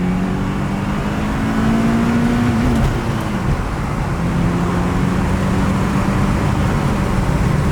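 An Acura TSX with a manual transmission drives along, its engine giving a steady, moderately loud hum with road rumble and a slight pitch shift as it runs through the gears.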